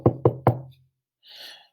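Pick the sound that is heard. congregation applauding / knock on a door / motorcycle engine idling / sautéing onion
knock on a door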